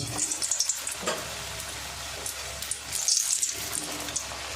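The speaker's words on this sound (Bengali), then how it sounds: "এবার আমি ভেজে নেব" A steady hiss and crackle of a vegetarian roll frying in hot oil, continuous and fairly close, with no voices.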